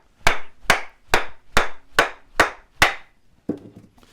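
A wooden tool handle, made from an old table leg for a ¾-inch scraper, is struck on its end to drive it on. Seven sharp, evenly spaced knocks ring out close and loud, followed by a softer final tap.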